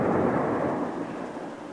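Thunder rolling during a lightning storm with rain, heard from a car near a four-wheeler; a broad, loud rumble with rain hiss that slowly fades, no voices.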